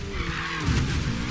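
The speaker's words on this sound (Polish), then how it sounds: "Jakie hamowanie." Car tires skid and squeal under hard braking in Need for Speed Payback, a short loud screech over engine rumble.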